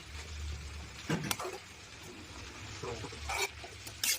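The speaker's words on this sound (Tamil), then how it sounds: "போட்டு நல்லா வந்து வதக்கிட்டு மூடி போட்டுக்கலாம்" Spinach and onion sauté in hot oil in a pan, giving a soft, steady sizzle broken by a few brief scraping stirs.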